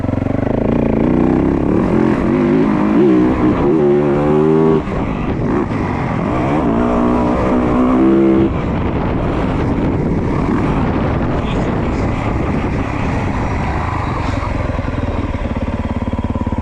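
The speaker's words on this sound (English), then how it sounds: "I will throw you guys on board and let you guys enjoy some rev limiter" Onboard a motorcycle, the engine bounces hard off the rev limiter in two rapid stuttering bursts, loud and close, buried in heavy wind rush across the microphone.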